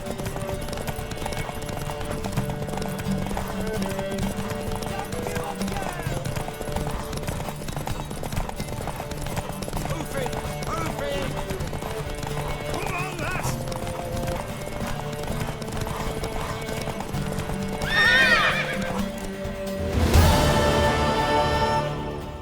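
Horse hooves clip-clop steadily under game music and effects while riding in Witcher 3, with a brief neigh near the end followed by a loud impact-like burst.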